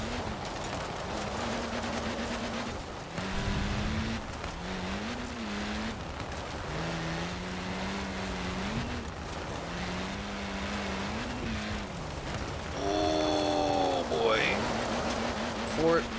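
Mitsubishi Evo 6 engine in Forza Horizon 4, revving and shifting through gears with tire squeal near the end, a continuous loud drone under occasional talk.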